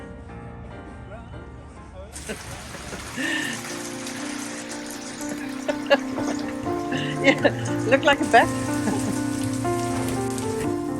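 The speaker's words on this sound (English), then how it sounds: "I think there's no need for me to tell you that it rains in buckets" Heavy rain drums steadily on a surface in a windy spot near Romblon, a dense continuous wash with scattered louder drops, while people talk over it and music plays.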